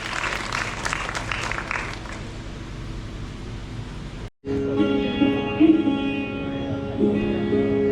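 An audience at a college cultural program in Haldwani applauds to welcome a performer; clapping fills the first part before a brief cut, followed by a steady tonal hum with some background noise.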